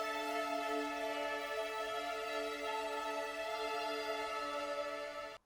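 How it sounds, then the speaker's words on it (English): A repetitive synth melody for a trap beat plays steadily and loudly on its own, with sustained bright harmonic tones looping throughout before cutting off at the end. "I made this repetitive melody."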